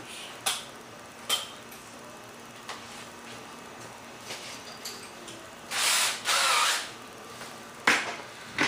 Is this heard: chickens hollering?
no